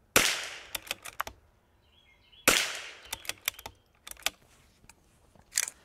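A rifle fires long range .22 LR ammunition in two sharp, close cracks about two seconds apart, each followed by fainter clicks and clatter from the action and the range.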